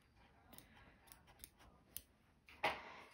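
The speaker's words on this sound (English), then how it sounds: "I'm gonna stop and I'm gonna pull this up and I'm going to snip it." Small scissors snip thread during punch needle embroidery, a few faint, close clicks spaced apart, ending with a sharper, louder cut.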